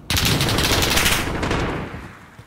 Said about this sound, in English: I don't know if those shots were at me